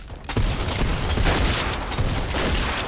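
A burst of rapid gunfire in the Fortnite battle royale, a dense crackling fusillade that starts abruptly after a brief quiet and rolls on loudly with repeated sharp bursts and echoing booms.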